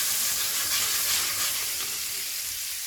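Butter sizzles in a hot pan alongside fillet steaks, a steady, bright hiss with crackle that holds continuously and fairly loud throughout, with no voices.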